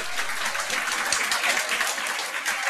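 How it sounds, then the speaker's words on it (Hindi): An audience claps loudly and steadily in a lecture hall during a talk on passing the RAS exam, a dense continuous patter with no voices on top. "तालियां मत बजाओ"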